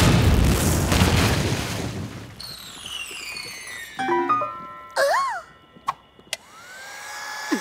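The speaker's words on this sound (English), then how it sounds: "He who reads this fortune shall explode." A cartoon explosion set off by a fortune cookie, a loud rushing blast that fades, then a run of whistling, twanging and popping cartoon effects, with brief voice-like yelps.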